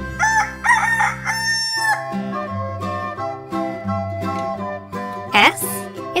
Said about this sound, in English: R is for rooster.